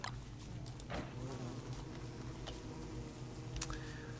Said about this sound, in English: Hello, Killer Bee.